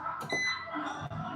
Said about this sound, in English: so once you hear that beep, it's ready to go